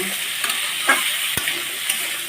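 Potato, pumpkin and carrot pieces fry together in a pan, a steady close sizzle with a few light clicks and scrapes of a stirring utensil, with no voices over it.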